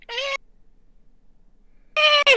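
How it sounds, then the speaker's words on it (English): A female cat gives two loud, screaming meows, a harsh piercing call up close, then a long quiet gap before a second one with a brief extra squawk at the end. "One of them can't even meow right. She just screams."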